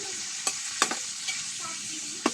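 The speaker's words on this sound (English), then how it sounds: "So I'm going to cook my onions until they are translucent" Onions fry in a pot over an open fire for mutton biryani, a steady sizzle broken by several sharp spoon scrapes and knocks.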